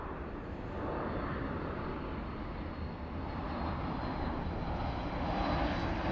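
A large airliner arriving at LAX, its engines a steady broad roar that swells slightly as it nears, moderately loud and alone.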